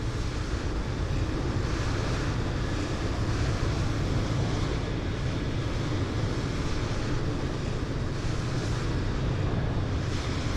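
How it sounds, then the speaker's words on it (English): Steady, dense rushing wind noise fills the cockpit of a Delta 767-300ER in a flight simulator game, loud and unbroken throughout with no talk over it. "I do not like that outside ambience noise coming through into the cockpit right now."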